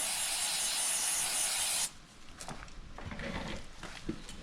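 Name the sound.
spraying chain cleaner on a Ducati Panigale V4S chain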